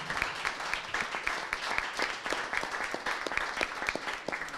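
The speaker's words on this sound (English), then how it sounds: "Another round of applause for our speakers." An audience at a mental health town hall applauds the speakers. The dense, steady clapping comes from many hands and carries on for a few seconds without any talk over it.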